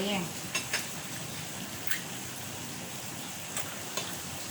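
Squid frying in a pan gives a steady soft sizzle, quiet and continuous, with a few light clinks of a utensil against the pan scattered through it and a faint voice at the start.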